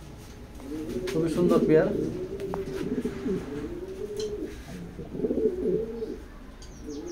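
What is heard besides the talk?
pair of pigeons cooing in a loft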